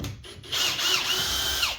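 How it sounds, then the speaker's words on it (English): Power drill backing screws out of a Nissan Frontier during a backup camera installation, a short close whirring burst that rises and dips in pitch for just over a second. "I'm just going to use a drill on it and see if it'll work"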